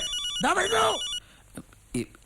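A telephone bell rings in a Malayalam comedy film scene. Its steady, shrill tone fills the first second and overlaps a voice, then gives way to quieter room sounds and a couple of short knocks.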